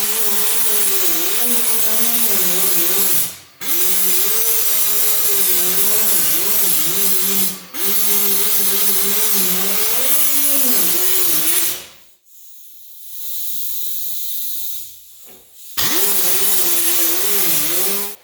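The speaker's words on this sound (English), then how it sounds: "I'll take the grinder, where this is due, I'll clamp this in place, and I'll just square off this edge onto the original panel" An angle grinder squares off the edge of a clamped steel panel, a loud continuous whine broken by three short pauses, with a quieter rougher stretch near the end before full grinding resumes.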